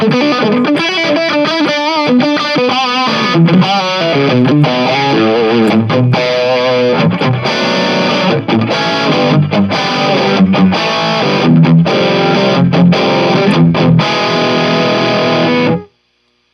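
Electric guitar through a Joyo Freeman high-gain distortion pedal with the gain fully up, giving a plexi-style amp tone: loud, continuous saturated riffing with chugging, rhythmic chords throughout, ending abruptly.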